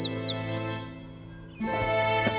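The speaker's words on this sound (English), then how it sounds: "the real mother bird is here" A cartoon mother bird chirps in a few quick, high, bright tweets up close, then gives way to steady, soft background music.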